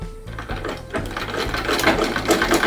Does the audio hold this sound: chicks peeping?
no